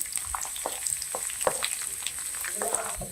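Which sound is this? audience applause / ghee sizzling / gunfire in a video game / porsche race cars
ghee sizzling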